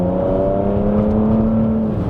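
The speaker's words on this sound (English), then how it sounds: "Let's just chuck it into sport, and again with this one it opens the exhaust" A Bentley Bentayga V8 diesel accelerates with its sport exhaust open, a steady close engine drone whose pitch holds and slowly rises for about two seconds, with no talk.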